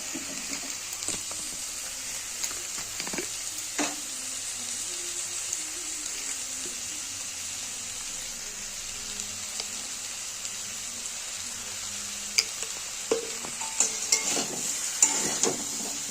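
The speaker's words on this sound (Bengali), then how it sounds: "মশলাটাকে আমি জিরে হলুদ লঙ্কা দিয়ে কষিয়ে নেবো" Tomato with cumin, turmeric and chili frying in a pan for a vegetarian cauliflower and potato curry, giving a soft, steady sizzle with scattered taps and scrapes of a spoon that grow busier toward the end.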